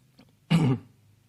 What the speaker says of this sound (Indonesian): Ya, biasa kalau agak kering batuk.